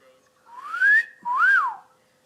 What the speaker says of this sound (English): Dang it, I normally can't whistle